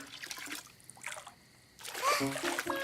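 Water splashing and trickling in a bubble bath, soft sloshes and drips that come and go, fairly faint, with a brief lull before a livelier burst of splashing near the end.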